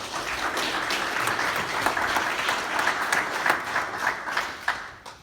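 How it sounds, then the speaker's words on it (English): Sustained, dense applause from an indoor crowd at a Cavan club championship draw, honouring hurling club representatives; steady clapping throughout at an even level, fading slightly near the end. "You can give them a big round of applause, please."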